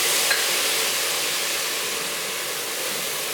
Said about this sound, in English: Now I'm going to add a little bit of veggie broth.